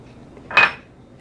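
Dried guajillo and ancho chiles tumble into a blender jar in a home kitchen, making one short, bright clatter against the jar that fades quickly in a quiet room.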